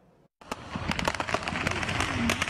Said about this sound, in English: Gunfire and chaos.